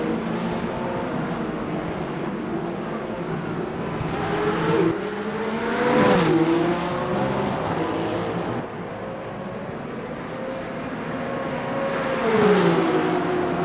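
A racing Alpine car in Le Mans Ultimate, during an eight-hour Bahrain simulation race, revs loudly and continuously, its engine note climbing and dropping through gear changes, with thin high whines above.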